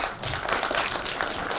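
An audience claps for a returning guest at a film lecture at the Méliès cinema, a steady wash of applause that fills the whole short stretch without any voices.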